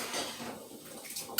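Glass canning jars of beef stew set into a pressure canner, soft knocks and clinks of glass against metal, ending with a brighter sharp clink up close.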